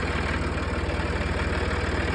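An old tractor engine runs at a steady idle, a close, loud, pulsing low chug with a regular knocking rhythm and no talk.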